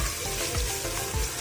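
Ginger garlic paste sizzles steadily in a hot pan in a village kitchen, a dense, close hiss with soft pulses of stirring.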